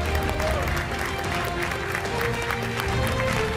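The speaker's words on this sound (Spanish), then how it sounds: "¡Aplaude el representante de la banda!" Studio audience applause on a televised game show, a steady broadband patter of clapping from a crowd, moderately loud and continuous with a faint musical tone underneath.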